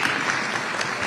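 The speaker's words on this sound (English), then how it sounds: "Please clap." Audience applause at an international charity summit against trafficking, a dense steady wash of many hands clapping, loud and continuous for about a second.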